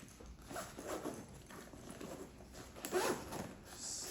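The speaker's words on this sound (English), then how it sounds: "Zipper's a little stiffer than what I'm used to on EVERGOODS." The zipper on a new EVERGOODS Civic Panel Loader 16L backpack is pulled open in a few quiet, slightly stiff rasping strokes, close by and faint.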